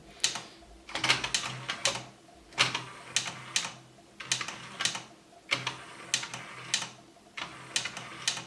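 Keys on a Yamaha CDX E100 compact disc player are pressed in repeated sharp clicks, each followed by the whir and clatter of the mechanism moving, close and clear with pauses between presses.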